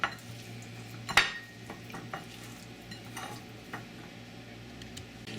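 A spoon works through a shrimp and chipotle mixture with a few scattered clinks and scrapes, one sharp knock standing out, over a low steady hum and faint sizzle, close and fairly quiet, with no talking.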